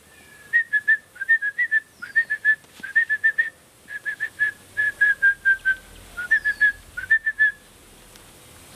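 A person whistles an imitation of the red-bellied paradise flycatcher's call from Sierra Leone: short, clear, repeated chirping phrases in quick bursts, rising and falling, with brief pauses between groups.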